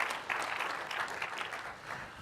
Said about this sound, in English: More claps.